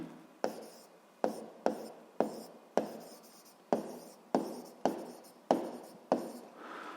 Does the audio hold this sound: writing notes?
yes